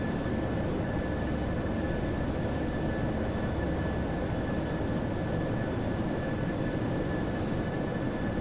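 An airliner's engines idle before taxiing for a Krakow to Birmingham flight, a steady, even drone that holds without change from start to end, with no voices over it.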